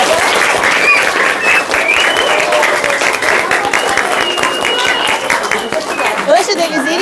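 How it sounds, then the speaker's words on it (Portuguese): Loud, close applause from an audience at a storytelling event, brisk continuous clapping mixed with chatter and a few shouts from the crowd throughout. "E agora eu vou pedir para vocês mais uma salva de palmas para as portadoras de história."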